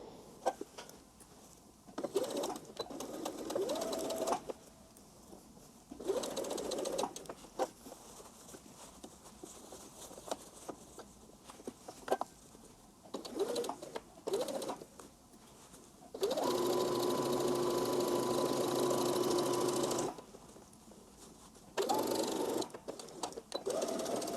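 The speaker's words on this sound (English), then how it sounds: "So first, we're going to sew the vent." A sewing machine stitches the vent seam of a dress skirt, running in several close bursts of fast mechanical whirring separated by short pauses, with one long continuous run near the end and no talking.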